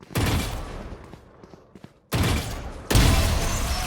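Gunfire in a one-on-one shooting video game comes as loud bursts of rapid shots, with a quieter gap between them and a hard-cutting final barrage.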